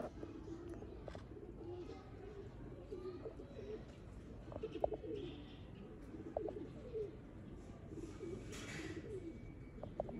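Female Sialkoti pigeon being handled and shown, giving soft low cooing calls amid steady background noise, with a few faint chirps from other birds nearby.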